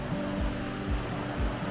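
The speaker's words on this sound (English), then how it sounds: "Babbling brook plus." The River Rioni in Kutaisi rushes by as a steady, moderate wash of flowing water, with soft low thumps recurring about every half second.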